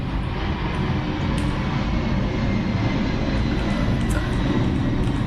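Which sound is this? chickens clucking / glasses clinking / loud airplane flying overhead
loud airplane flying overhead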